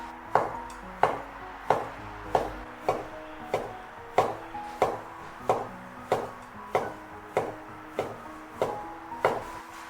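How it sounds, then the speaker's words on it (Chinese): A knife chops tofu skin into thin strips on a cutting board in an even, unhurried rhythm of crisp thuds, about fourteen clear strikes, close and alone without speech. "边角料切掉，再切成均匀的细丝。"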